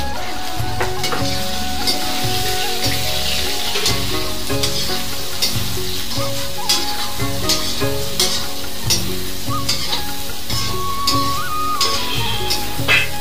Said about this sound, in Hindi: तेल गरम हो गया, मैं सोयाबीन सेंक रहा हूँ।